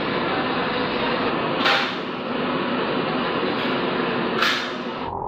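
An underground metro train at a station, a loud continuous rushing rumble filling the space, with two brief hissing bursts over it.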